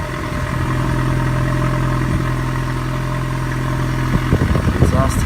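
A car engine idles steadily with a low, continuous rumble through newly fitted burnt exhaust tips, close and fairly loud, with some clattering handling noise near the end.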